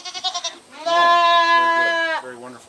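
A goat on a jungle farm gives a few short choppy bleats, then one long wavering bleat, loud and close, with a faint second call at the end.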